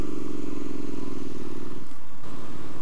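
A Triumph Street Scrambler motorcycle engine rumbles steadily up close, then the note drops and changes near the end as the throttle eases off.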